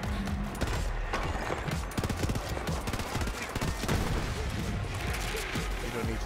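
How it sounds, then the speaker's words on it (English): Rapid assault rifle fire in Borderlands 3, with dense bursts of shots cracking out over a busy game soundscape through most of the stretch, loud and continuous, with a voice talking alongside. "We don't need to get close. We have an assault rifle."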